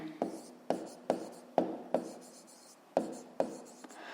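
A pen writes numbers by hand while a fifth-grade math exercise is being solved: eight or nine short, scratchy strokes come at a steady rhythm, close and fairly quiet, with no talking.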